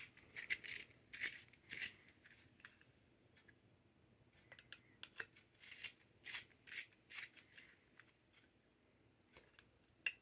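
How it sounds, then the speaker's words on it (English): Pencil grinding in a Pen+Gear manual sharpener, a series of short rasping scrapes in bursts, some forced and louder, with quieter gaps between them, close and alone. "It doesn't seem to want to sharpen this one either without a bunch of force in there."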